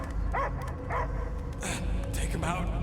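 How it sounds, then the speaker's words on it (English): Dog barking in the video game Marvel's Guardians of the Galaxy, a few short yips and barks rising over a dense game soundtrack with background music. "I hear only barking."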